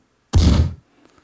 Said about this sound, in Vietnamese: Đây là đợt pháo kích.